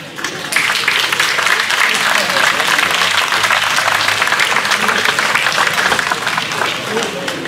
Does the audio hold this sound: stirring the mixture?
no